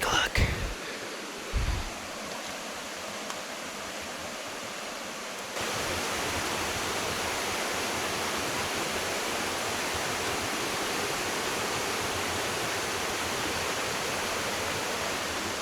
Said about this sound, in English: Hopefully you guys can hear that running water.